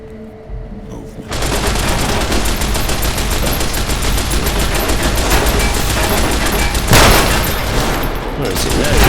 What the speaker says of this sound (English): Throwing bombs at me, I think.